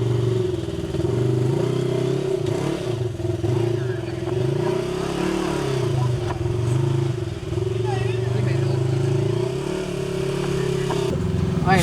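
A side-by-side off-road vehicle climbing a stepped hill, its mid-pitched engine droning and revving steadily with some clatter, loud and close, while people talk over it.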